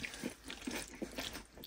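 Close, soft crunchy bites and chewing on buffalo mac and cheese with onions, eaten while truck camping, come as a few quick repeated mouthfuls at low volume.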